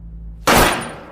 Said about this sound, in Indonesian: sebuah peluru melesat tepat mengenai Babatok si bos